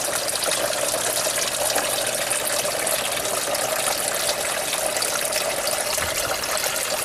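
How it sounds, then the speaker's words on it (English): Pump in a home-built aquaponic system pushing water up through pipes into the grow bed, a constant close splashing, gushing flow of water with no pauses. "Water goes up the pump through the pipes to then feed the grow bed."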